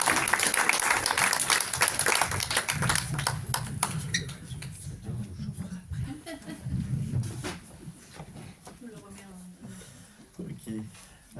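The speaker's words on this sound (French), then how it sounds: "on peut l'applaudir" Applause from a conference audience is loud and dense for the first few seconds, then thins out and fades under voices and room murmur.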